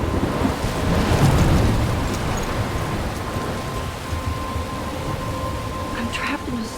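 Thunderstorm in the video game Life is Strange: steady heavy rain and wind with a deep rumble of thunder swelling early on, then a dense wash of rainfall continuing throughout.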